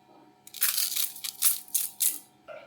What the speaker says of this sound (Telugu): ఇప్పుడు దీనిలోకి బియ్యం యాడ్ చేయాలి